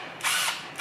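An Ozito two-function cordless drill rated at 40 Nm gives a brief high-pitched whir, then winds down and brakes to a stop almost silently, heard up close.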